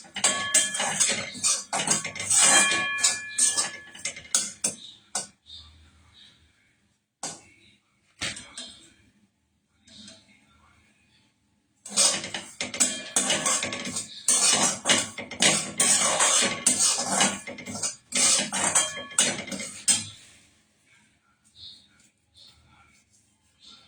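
Stirring in a pan with a little ghee while lightly roasting: clinking, scraping metal-on-pan sounds in bursts, close and moderately loud, separated by quieter gaps, with a person talking over parts of it.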